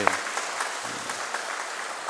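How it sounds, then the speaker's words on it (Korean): Church congregation clapping to welcome a new member during a service, a brief burst of moderate, steady applause with no talk. "우리 환영의 박수 하겠습니다"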